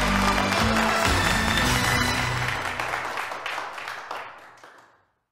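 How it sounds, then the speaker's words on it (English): Round of applause from a quiz show audience, a dense steady clapping wash that holds for about three seconds and then fades out to silence. "A round of applause for Vanessa."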